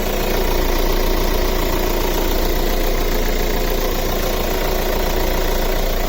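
A Hyundai Creta's 1.6-litre engine idles loudly and steadily, a dense, continuous rumble with a faint knocking texture, close by and unbroken for the whole stretch with no voices.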